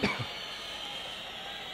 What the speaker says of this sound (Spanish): Ando con mucha tos últimamente.